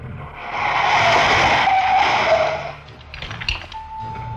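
A car with sabotaged brakes skids with a long, loud tire screech that rises and then cuts off, followed by clattering noise and a steady tone.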